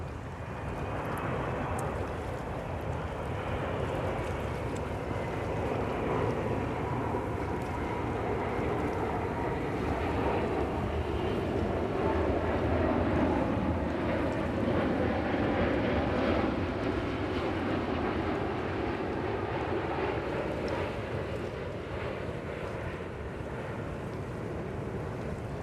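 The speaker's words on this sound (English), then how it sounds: "Let's take the Emirates real quick because we don't see them landing too often." An Emirates Airbus A380 lands at JFK airport, a steady broadband roar of jet engines and rushing air sustained throughout, with wind buffeting the microphone.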